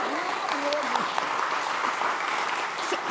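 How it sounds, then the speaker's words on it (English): Audience applause at a food and agriculture summit session at SXSW 2025, a steady wash of clapping from a room full of people with faint voices mixed in. "Give that a round of applause, please."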